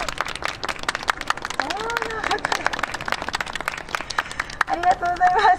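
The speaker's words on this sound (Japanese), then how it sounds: "まずはここまで頑張った愛ちゃんに皆様からもう一度大きな拍手お願いいたします" Audience at a Japanese monkey performance applauding in a steady patter of many hands, moderately close, with a voice talking over the clapping partway through.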